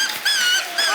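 A puppy gives high, whining yips, two or three thin rising cries in a quick second, close and clear with no talk over them.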